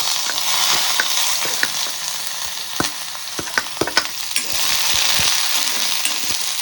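Finely chopped onion frying in a pan for paneer bhurji, a dense close sizzle with frequent scraping and tapping from stirring, no talk.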